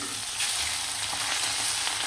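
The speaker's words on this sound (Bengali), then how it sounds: "মাছটা কিন্তু একদম ভাজা ভাজা হয়ে গেছে" Hilsa fish frying in a pan on a gas stove gives a steady, close, dense sizzle with a constant hiss and faint crackle throughout, with no voices.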